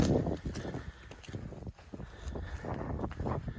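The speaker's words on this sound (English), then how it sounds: "It's a little windy." Wind gusts buffet the microphone on a ridge top near Cowrock, a rough, low rumbling roar that swells and dips throughout, loud and close.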